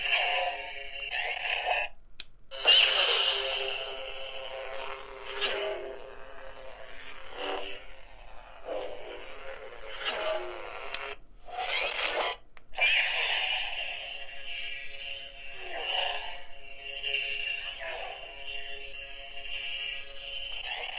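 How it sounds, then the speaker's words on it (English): Galaxy's Edge Ahsoka Tano toy lightsaber hum with buzzy, swelling tones, switching on and off repeatedly and shifting in pitch as it swings, close by. "let's compare Savi's Workshop and the new Ahsoka Sabers"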